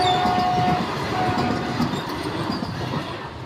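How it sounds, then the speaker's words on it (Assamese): Train passing close by on a railway line, a loud rumbling roll of wheels with a sustained squealing tone near the start, gradually easing off. "ৰেল লাইনত আমি ফাঁচি গ'লোঁ আৰু এইখন ট্ৰেইন আহিছে।"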